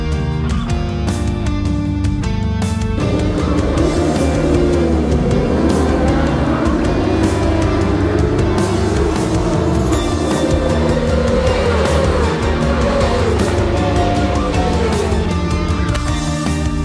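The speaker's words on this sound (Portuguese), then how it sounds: "As duas rodas acelerando muito forte pelos" Superbike motorcycles race hard around the 4,309-metre Interlagos circuit during a Brazilian Superbike round, engines screaming loud and continuous with rising and falling revs as bikes pass, with no talk over it.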